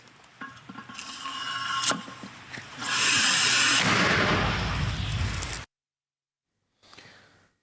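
A loud artillery shot booms and rolls out into a long, hissing, rumbling roar that cuts off abruptly, followed by a faint distant sound.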